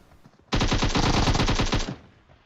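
An AKM rifle in PUBG fires a single sustained automatic burst of about fifteen rapid shots, loud and close, ending at a trailing decay.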